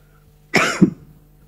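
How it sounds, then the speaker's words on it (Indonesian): A single short cough, close and sharp, standing alone against a quiet background hum. "Itu batuk."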